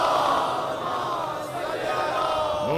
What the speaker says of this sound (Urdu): اور بلند صلوات پڑھ لیں نبی کی طرف۔